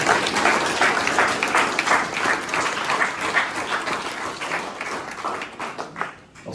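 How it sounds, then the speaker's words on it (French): A crowd at an exhibition opening at the Scriptorial breaks into dense, sustained applause that fills the room steadily and then thins out and fades near the end. "Vous pouvez les applaudir"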